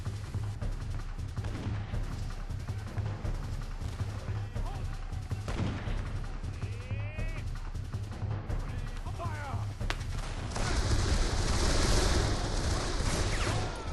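Rapid volleys of musket and rifle fire crackle from a firing line in the video game Darkest of Days, with dense overlapping shots and a louder burst near the end, mixed with battlefield noise and some voices.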